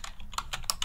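Rapid keystrokes on a computer keyboard while entering a Matlab command, a series of sharp, close clicks in an irregular rhythm with no talking.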